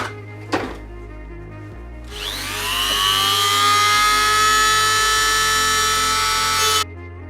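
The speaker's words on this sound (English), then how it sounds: "What I'm going to do first is cut off these bits with my Dremel." A Dremel rotary tool winds up to a high steady whine and cuts through plastic tabs on a Porsche 928 fuel tank part, loud and close for several seconds before stopping abruptly, after an earlier knock.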